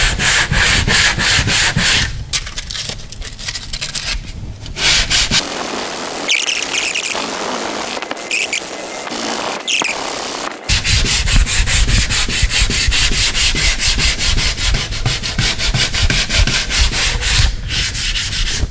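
A sanding block rubs body filler on a dented metal door in steady, loud back-and-forth strokes, with a short break of quieter scraping midway before the rhythmic sanding resumes.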